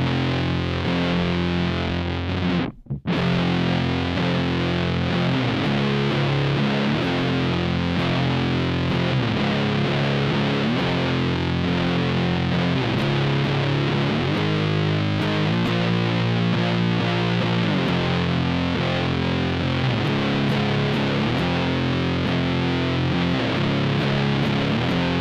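Heavy distorted electric guitar riff in C standard tuning, played on the bridge pickup over the neck for a thick doom tone, looping steadily and loudly alone for the whole stretch after a brief dropout near the start.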